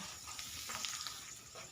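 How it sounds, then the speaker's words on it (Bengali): Carrots, onions and chillies fry in a pan for chow mein, giving a soft, steady sizzle and crackle heard close up. "তো এখানে দেখো আমি ভাজছি"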